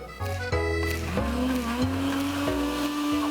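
A kitchen blender whirs through milk infused with lemongrass, its loud motor whine climbing in pitch and holding steady, running alone without talk.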